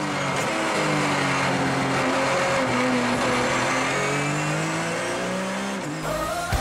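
A 3.2 litre BMW 1 Series race car at Assen in a Dutch Supercar Challenge race, its engine roaring loudly with rising and falling revs through corners, a faint tyre squeal, and a sudden drop at the end.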